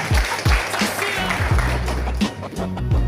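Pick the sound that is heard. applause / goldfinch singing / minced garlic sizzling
applause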